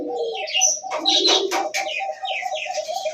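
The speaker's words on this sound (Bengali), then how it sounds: "কোকার ডাকটা দেখেন, অল টাইম ডাকে, অল টাইম।" Pigeons at a farm selling birds, including white Bombay pigeons, coo steadily and close by, with soft chirps layered over a continuous low cooing that runs throughout.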